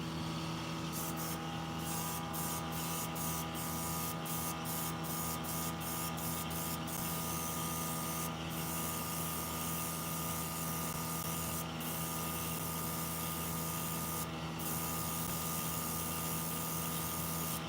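An aerosol spray can lays light pink paint onto a model figure in short hisses, a rapid series of bursts followed by a few longer spaced sprays over a steady background hum.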